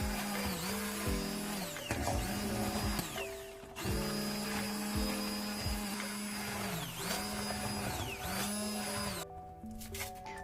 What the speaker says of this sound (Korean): 단호박이 다 익으면 도깨비 방망이를 이용하여서 곱게 갈아줍니다